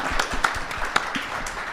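A short burst of applause, many hands clapping at once in a dense, crackling patter, with no voices.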